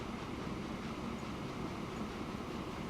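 A train in the Transport Fever video game rolls along the main line. It gives a quiet, continuous rumble with faint rhythmic clatter from the wheels, steady and unbroken throughout.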